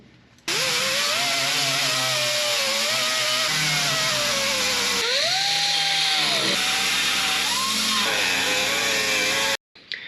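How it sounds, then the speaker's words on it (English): An angle grinder works sheet metal on a car body during restoration, a loud close whine that rises and falls as the wheel bites, running almost continuously before stopping abruptly. "Let's try to do a little bit of grinding."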